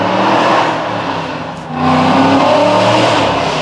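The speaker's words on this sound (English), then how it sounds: "my neighbor with his obnoxious exhaust" A neighbor's car with a loud, obnoxious exhaust revs close by in a steady, droning roar, dipping briefly midway before surging back up.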